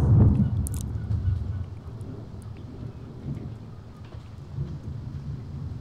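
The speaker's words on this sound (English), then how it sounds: "Thunder and stuff." Rumbling thunder with steady rain fills the night ambience of the horror video game Five Nights at Freddy's 3, loud at first and then settling into a continuous wash of rain with soft distant rolls.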